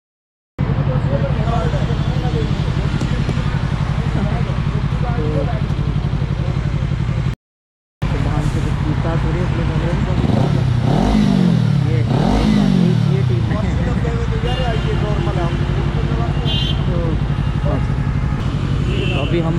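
A motorcycle on a cold winter Sunday ride, its engine droning loud and steady throughout with a short dropout, then rising and falling revs near the middle, heavy wind and road rumble around it.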